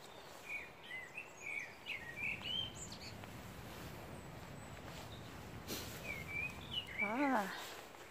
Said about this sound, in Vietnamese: Mùa xuân là chim nó líu lo đó.